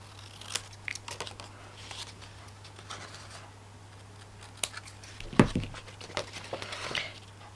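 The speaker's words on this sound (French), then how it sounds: "Avec les ciseaux, je vais couper cette partie-là." Scissors snip through patterned gift wrapping paper printed with hearts while a chocolate gift box is being folded, making soft, scattered cuts and crinkles up close, with one sharper snip, over a steady low hum.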